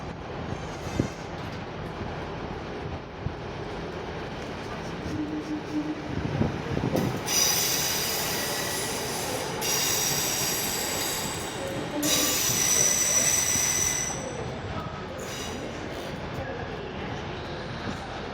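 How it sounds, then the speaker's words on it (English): A train pulls into Nottingham station with rumbling wheels and two long bursts of high metallic brake squeal, fairly close and loud, with a faint voice in the background. "1329 East Midlands Railway service to Lincoln Central."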